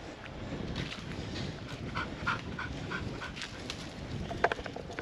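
Street dogs at a Thai temple panting steadily at close range, with a faint whimper or two over a rough outdoor background and a few brief bird-like chirps.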